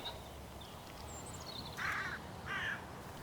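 Crows caw twice in a field, two harsh rasping calls a little apart, moderately distant over faint background noise with thin higher chirps earlier.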